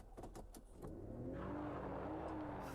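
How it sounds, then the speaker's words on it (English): A pickup truck engine in a haunted PS1-style horror video game cranks over and settles into a loud, steady revving drone after a brief clatter of ignition noises. "Start the truck."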